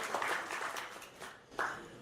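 Light, scattered clapping from a small audience at a poetry festival welcomes a poet, the applause rising and fading in soft, uneven bursts.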